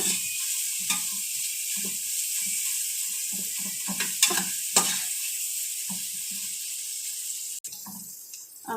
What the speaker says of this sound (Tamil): இது நல்லா வெங்காயம் நல்லா கோல்டன் ப்ரௌன் ஆகிற வரைக்கும் ஃப்ரை பண்ணிக்கோங்க